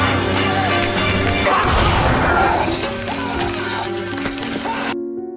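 A loud crash booms out, followed by clattering debris and a rumbling tail that fades before the sound abruptly cuts off.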